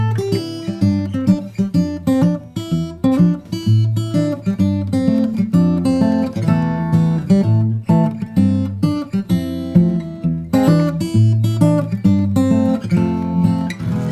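Solo guitar arrangement of the first verse of a song, a steady stream of plucked notes over a bass line, played continuously and loud with no voices.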